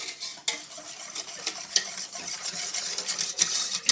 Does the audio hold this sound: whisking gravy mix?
yes